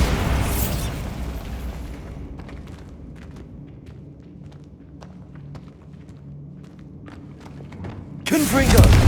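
A Bombarda spell detonates in Hogwarts Legacy with a loud burst and boom, followed by a quieter stretch of light thuds and footsteps, then a second sharp blast at the end.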